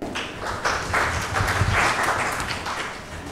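An audience at a children's assembly in Karachi breaks into steady, full applause to welcome a speaker to the stage, the clapping swelling and then tapering slightly toward the end.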